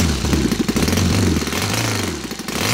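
Saito FA270T model aircraft engine converted to gas with CH ignition, idling close by with a rough, throbbing pulse that rises and falls slightly over a few seconds.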